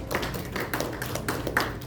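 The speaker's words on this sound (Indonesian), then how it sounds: "Tepuk tangan untuk firman Tuhan." Scattered, uneven clapping from a church congregation during a sermon rings out steadily for a couple of seconds. It is moderately loud and has no talk over it.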